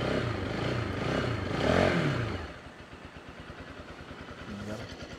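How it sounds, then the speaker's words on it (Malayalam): A Bajaj Pulsar NS200 motorcycle engine idles with a steady, fast, rhythmic thrum, heard at moderate loudness after a stretch of louder, indistinct noise. "അപ്പോൾ വണ്ടിയുടെ എൻജിൻ സൗണ്ട് കേൾപ്പിച്ചിട്ടാണ് കേട്ടോ."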